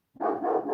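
A dog gives one close, loud bark indoors near a wood stove, a short sharp burst that starts from silence and then cuts off.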